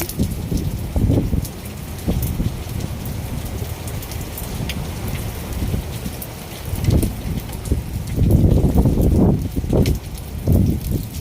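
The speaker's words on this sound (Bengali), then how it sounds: "সৌদি আরব ঝড় বৃষ্টি শুরু হয়ে গেছে" A rainstorm in Saudi Arabia: steady rain pours down with gusts of wind swelling through it, louder bursts coming in waves and heaviest near the end, with no voices.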